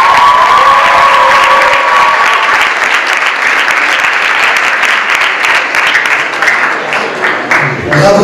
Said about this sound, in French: Lina et Myriam, qu'on peut applaudir une nouvelle fois